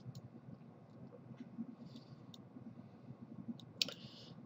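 A computer mouse button clicks a few times, with faint, crisp, scattered clicks over a quiet background.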